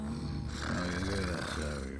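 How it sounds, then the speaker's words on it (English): Snoring from a character in the Fable II video game, a steady rumbling breath sound that fills the whole two seconds, loud and close, with a broad rasping texture and no clear pauses. "The snoring?"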